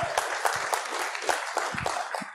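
Audience applause at a closing ceremony, scattered individual claps from a modest crowd, fairly faint and brief, with no talking.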